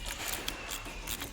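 A hand ratchet tightening the mounting bolts of aluminium motorcycle panniers, heard as a brief run of quick, close clicking strokes.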